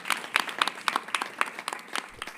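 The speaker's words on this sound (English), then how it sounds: "Can we give Ex Officio Ballin a round of applause for such a successful joint meeting?" A small group claps at an Iowa State student government senate meeting after a successful joint meeting, with distinct, closely spaced hand claps that stay fairly light and sparse.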